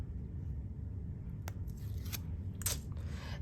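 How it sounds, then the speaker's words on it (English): Release paper being peeled off the back of a cling stamp during assembly: two quick crinkly, papery tearing rasps over a steady low hum, close and fairly faint. "pull off this release paper"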